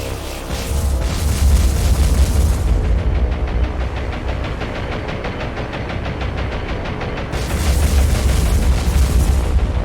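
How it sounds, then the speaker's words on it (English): Ship magazine explosion in the War on the Sea naval game, a heavy booming blast with a rumbling, crackling tail that swells again near the end, loud and without talk. "Magazine explosion."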